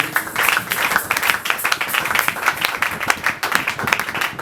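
A congregation at a Sunday church service claps in a dense, steady burst of applause that runs unbroken for a few seconds, with loud irregular slaps layered throughout.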